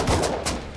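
Two quick bursts of gunfire in the game Rust crack out close together, sharp and loud, over a steady background hum.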